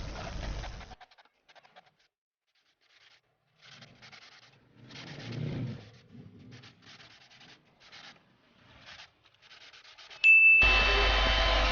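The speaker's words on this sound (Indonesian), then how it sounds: "haluskan sambungan-sambungan bagian hidung dengan mengamplasnya sambil menyiram air" Wet 240-grit sandpaper rubs the nose joints of a twin-motor ATR-72 600 RC model plane in short, close, intermittent scraping strokes with pauses between them, before music cuts in.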